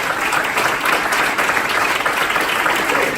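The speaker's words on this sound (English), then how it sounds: "if everyone could just please give a round of applause for Brian" An audience at a human trafficking seminar gives a seminar speaker a round of applause. The dense, loud, steady clapping continues throughout without pause.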